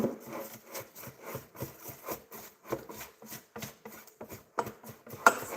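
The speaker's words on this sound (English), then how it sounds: "I just use this one to scrape off the dough." Bread dough being scraped off a work surface with a makeshift scraper, giving repeated rhythmic rubbing and scraping strokes up close, steady and moderately quiet, with a sharper knock near the end.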